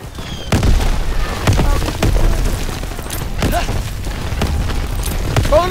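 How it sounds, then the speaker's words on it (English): Grenade blasts and gunfire in a World War II battle in the game Call of Duty WWII, set at the Rhine, with repeated booms and shots over dense battle noise, while voices shout in the background. "Throw the grenade!"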